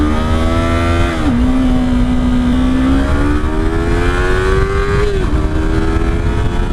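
A 2016 Yamaha R3 motorcycle accelerates hard at full throttle through its first two gears. The engine pitch climbs steadily and drops briefly at each upshift, and the loud close drone continues without a break.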